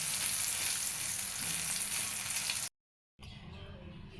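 Taro stolons (kochur loti) frying in hot oil in a pan, a loud, dense sizzle for a few seconds that cuts off abruptly, followed by quieter kitchen sounds.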